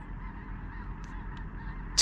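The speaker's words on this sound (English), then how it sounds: "tens of thousands of geese moving from this direction" Tens of thousands of geese fly very high overhead in the pre-dawn dark during a duck hunt, giving a few faint, distant honks over a low steady background hum.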